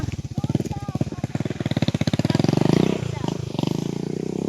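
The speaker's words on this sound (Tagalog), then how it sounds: "Ito yung motor na, ano, pambundok talaga" A mountain motorcycle engine runs close by with a loud, rapid chugging pulse that quickens and swells midway, then settles back into a steady idle-like thump.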